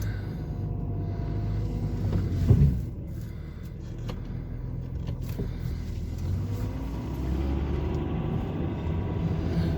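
An Audi A8 2.5 TDI with a poorly boosting turbo and clogged catalytic converter drives across a field, giving a steady low engine rumble with one brief louder surge early on.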